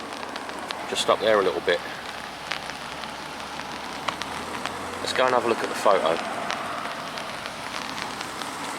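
Steady rain patters on an umbrella held overhead outdoors in Bedfordshire, a constant close hiss of drops running throughout while someone talks over it at intervals.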